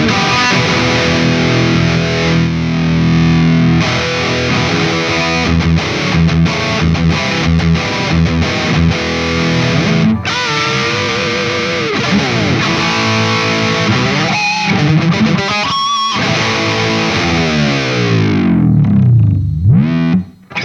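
Electric guitar through the hidden amp model and cab on a NUX MG-30, playing loud distorted chords and melodic lines with chorus-like shimmer, ending on a sliding note that drops away.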